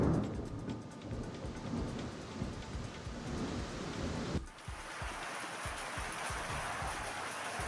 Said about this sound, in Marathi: अमरावती जिल्ह्यामध्ये वादळी वाऱ्यासह जोरदार गारांचा पाऊस बरसलाय